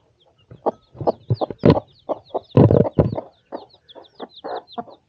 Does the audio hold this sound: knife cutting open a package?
no